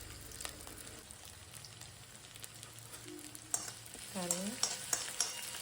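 Onions sautéing in a pan for masala sambar, a faint steady sizzle with soft stirring scrapes and a few clinks near the end, with a brief word spoken.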